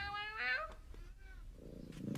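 A domestic cat vocalizing for attention, a drawn-out rising meow up close followed by a softer second cry and some low rustling.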